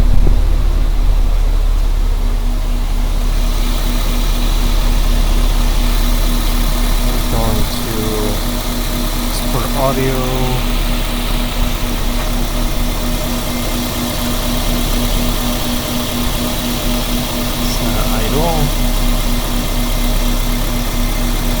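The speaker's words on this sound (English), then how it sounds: "let the engine warm up a bit" A car engine idles steadily up close with a loud, constant low rumble and hum, plus a few faint clicks and brief squeaks over the top.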